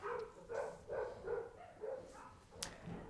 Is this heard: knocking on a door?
no